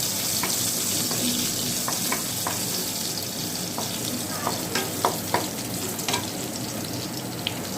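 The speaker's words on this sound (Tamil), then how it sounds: "இப்போ தட்டி வச்சிருக்க பூண்டு சும்மா லைட்டாக இதை சேர்த்து லைட்டாக வதக்கிக்கலாம்." Crushed garlic is lightly sautéed in a pan, giving a continuous close sizzle with scattered crisp pops and a watery hiss beneath, and no voices.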